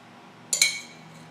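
A teaspoon of baking soda added to oatmeal raisin cookie ingredients, heard as two quick bright metallic clinks of the spoon against the bowl over a quiet background hum.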